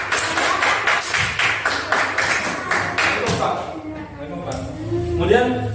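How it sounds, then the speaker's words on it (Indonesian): Classroom applause for a student group, a rhythmic patter of many hands clapping for a few seconds before fading into voices talking. "tepuk tangan untuk kelompok 2"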